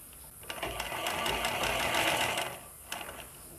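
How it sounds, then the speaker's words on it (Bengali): A sewing machine stitches blouse fabric in one steady, fairly loud run of about two seconds, then stops, with a brief restart near the end and no talking. "এটিকে পুরো ঘুরিয়ে ঘুরিয়ে আপনাদেরকে সেলাই করে নিতে হবে।"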